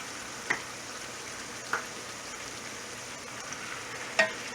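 Pork pieces for brown stew sizzle steadily in a pot, a soft continuous hiss with a few sharp pops and clinks spaced across the stretch.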